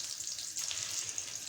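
Beef shami kebabs frying in a pan, giving a dense, bright, continuous sizzle close up, with no one talking.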